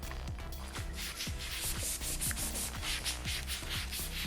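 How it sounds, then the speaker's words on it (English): Sandpaper rubs briskly back and forth on a Ducati XDiavel motorcycle grip shaft, close and continuous, with an uneven scratchy rhythm and no voices. "I'm sanding the shaft."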